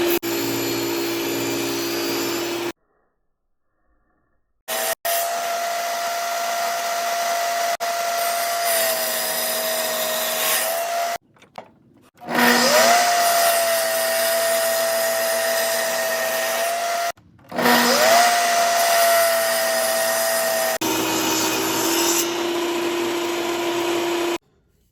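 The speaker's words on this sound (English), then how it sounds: "So I'm going to flip this over and cut this rabbet out." A power tool routing a rabbet into wood trim: a steady high-pitched whine runs at length, stopping briefly and restarting several times, loud and close with no talking.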